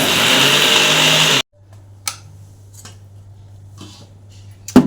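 An electric mixer grinder roars loudly and close in a home kitchen, then cuts off abruptly after about a second and a half, leaving a low steady hum and a few scattered clicks and knocks.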